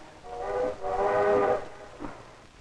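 A train horn or whistle in 1940s Norway sounds in two sustained tonal blasts, the second longer, followed by a brief fainter call, heard fairly close with no talk.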